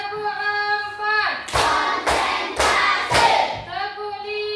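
A group claps four loud, evenly spaced slaps in a row, with talking voices before and after the claps.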